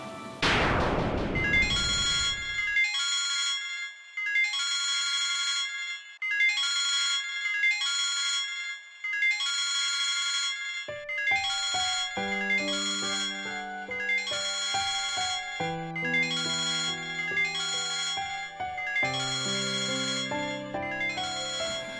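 A phone ringtone plays a repeating electronic melody in short bursts, then shifts into a fuller tune with deeper tones, loud and alone.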